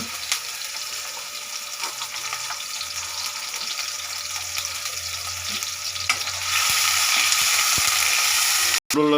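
Onion and chili fry in oil with a constant crackling sizzle that jumps noticeably louder partway through, as if the pan is stirred or more is added, followed by a brief clunk near the end.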